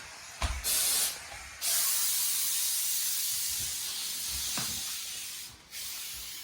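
Loud hissing bursts of steam spraying from a Shark Genius steam mop, a short puff, then a long sustained jet that tapers off, followed by another burst.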